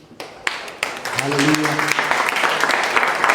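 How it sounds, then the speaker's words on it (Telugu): Church congregation at a youth anniversary gathering clapping their hands together, a dense, rising burst of applause that builds and continues under a voice speaking over it. "చప్పట్లు కొట్టండి"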